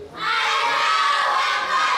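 A crowd of children shouting the Takbir call in unison, a sustained loud collective cry that rises quickly and holds for about two seconds.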